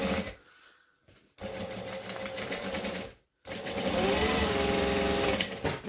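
Sewing machine stitching along a vinyl pouch seam, close and loud, running in bursts of rapid steady needle chatter with brief pauses between runs.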